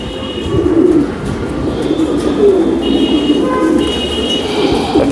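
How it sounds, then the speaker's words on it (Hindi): Racer homer pigeons coo softly and repeatedly in a loft, their low rolling calls close by over a background hum and a few faint chirps, with no talk. "ये देखिए बहुत खूबसूरत परिंदा रेसर हॉमर्स।"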